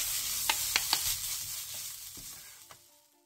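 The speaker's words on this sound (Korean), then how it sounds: "들깨가루 반스푼을 넣고 1, 2분 정도 가볍게 더 볶아주세요" Onion and carrot stir-frying in a pan after perilla seed powder is added, with a close steady sizzle broken by several light scraping taps from the spatula, slowly fading.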